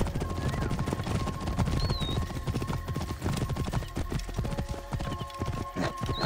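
Horse hooves galloping in Assassin's Creed Origins during a horse race, rapid dense clip-clop beating steadily throughout, with shouting voices, whinnies and other game sounds mixed in.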